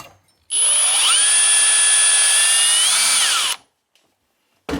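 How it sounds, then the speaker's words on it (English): A power drill boring pilot holes into a drawer during a monorail slide repair: one loud, steady whine lasting about three seconds with a rising pitch at the start, then stopping abruptly, followed by near silence. "Looks like we need a couple pilot holes."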